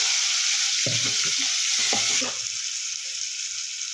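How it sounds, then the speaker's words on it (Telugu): Onions fry in a pan for a chicken curry, giving a steady loud hiss of sizzling oil throughout, broken briefly by a few stirring scrapes and clatters partway through. "ఉల్లిగడ్డలు ఫ్రై అవుతున్నాయి."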